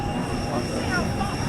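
An airplane on the airport tarmac near the runway, giving off a loud, steady engine roar and whine, with faint voices mixed into the constant noise.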